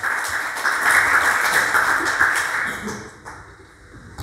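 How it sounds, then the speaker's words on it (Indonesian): A church congregation claps during a Sunday sermon, a brief, fairly loud burst of mixed hand claps that thins out and fades after about three seconds. "Kasih tepuk tangan dulu untuk Tuhan."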